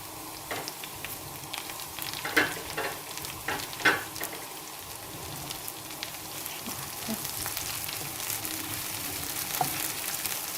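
Green peppers and carrots sautéing in a pan, a steady close sizzle of frying with scattered stirring scrapes and clicks throughout.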